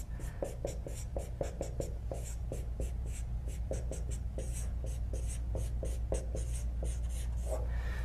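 Pen writing notes by hand on paper, a steady run of short scratchy strokes at close range over a low constant hum, with no talking.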